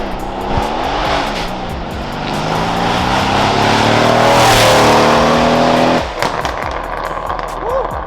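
A Mercedes-AMG C63S launches hard from 0 to 60 in a drag race, its engine roaring loud and close, revs climbing through upshifts with a brief dip near the end, while people talk and shout over it.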